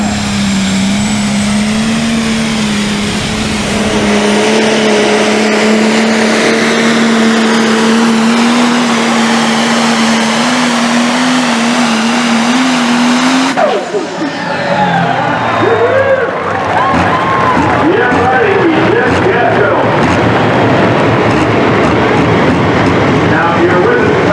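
Wagler's Real Deer pro stock pulling tractor from Morgantown, Indiana roars under load at the 2022 NTPA Grand National pull in Sandwich: a loud, sustained engine drone that climbs steadily in pitch, then breaks abruptly into a rougher, shifting roar partway through.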